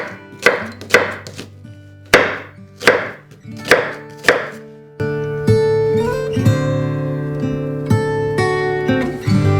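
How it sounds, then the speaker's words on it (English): Knife chopping an onion on a cutting board: a few slow, separate chops, then a stretch of sizzling or frying with softer chops on top, up close and fairly loud. "1 onion, which I'm gonna chop it"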